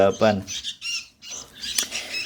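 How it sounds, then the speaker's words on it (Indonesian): Sooty-headed bulbul chicks, about three weeks old, giving sharp high squawking calls in short bursts from close by, with a brief human voice at the start. "Ini yang pertama ada anakan kutilang guys."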